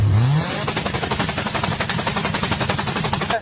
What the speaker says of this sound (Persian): صدای ناهنجار اگزوز.